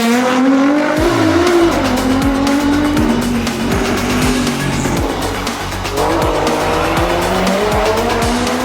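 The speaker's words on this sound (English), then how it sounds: "I get to drive this fantastic Mitsubishi Evo. It is 700 horsepower, all-wheel drive, crazy aero" A 700 horsepower all-wheel-drive Mitsubishi Evo time attack car with heavy aero works hard around a track, its engine revving and shifting with rising and falling pitch while tires squeal, loud and close.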